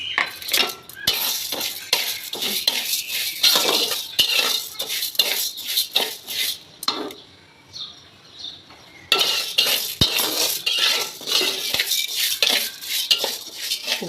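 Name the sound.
dry-roasting rice on a hot tawa, stirring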